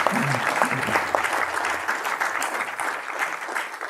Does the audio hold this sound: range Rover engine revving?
no